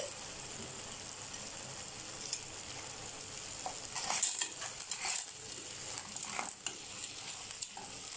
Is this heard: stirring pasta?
yes